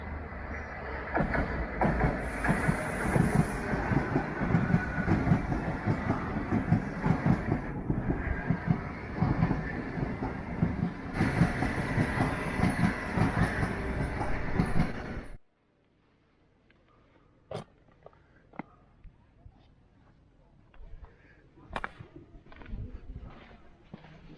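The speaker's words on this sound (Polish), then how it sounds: "I pociągi." A train passes close by on the rails near a beach at Torredembarra, Spain, a loud rumbling clatter for about fifteen seconds that cuts off abruptly, leaving quiet surroundings with a few sharp clicks.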